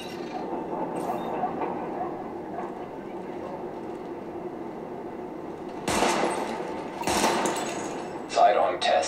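Sidearm shots fired at highlighted targets in Tom Clancy's The Division, a few sharp bursts standing out near the end over a low ambient game hum.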